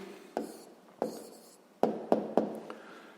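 Pen or pencil writing on paper while a math answer is noted down, a few separate scratching strokes and taps close by, quiet and without talk.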